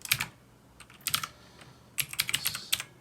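Keyboard typing on a 1978 Digital Group computer emulator, with three short bursts of quick, close key clicks separated by pauses and no talking.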